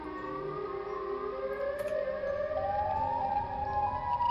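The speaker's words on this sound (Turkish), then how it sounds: "Siren sesleri geliyor." A Siren Head siren in Minecraft wails continuously, its pitch slowly rising and falling, steady and fairly loud with no other sounds.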